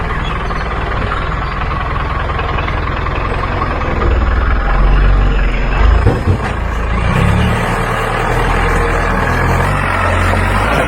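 A car fitted with new metallic bumpers drives past with a loud, steady engine rumble and broadband road noise that swells slightly around the middle, no talk.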